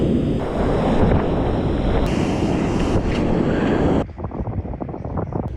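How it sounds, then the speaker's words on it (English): Strong northwest wind and rough white-water surf on a New Jersey saltwater shore, a loud continuous roar of wind buffeting the microphone over crashing waves, easing slightly near the end. "We got a northwest wind and the surf is also very rough."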